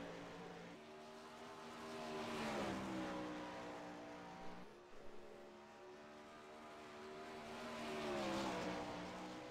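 A sprint car's engine on the track at Volusia during a championship qualifying lap, a loud sustained harmonic roar that swells as the car passes close, fades briefly, then swells again on the next pass.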